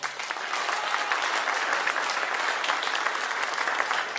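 Continuous audience applause at a Sardinian folk song event in Ozieri, a dense wash of many hands clapping evenly throughout, with no speech on top.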